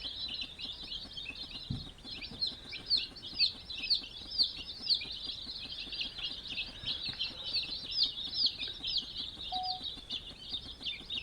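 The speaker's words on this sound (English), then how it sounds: "Baby chicks. They're here." Baby chicks at a homestead peep continuously in a dense, high chorus of overlapping cheeps, with a few lower clucking notes, steady and fairly close throughout.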